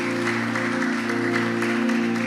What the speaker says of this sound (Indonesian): Berikan sekali lagi tepuk tangan.